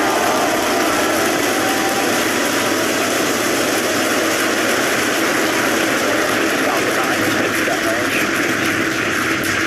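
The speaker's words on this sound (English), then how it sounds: "Ignition, engine full power, and liftoff." Roaring rocket engines from a SpaceX liftoff for the Axiom-3 crewed launch, a dense, continuous broadband rumble held at full power throughout, loud and steady with no pauses.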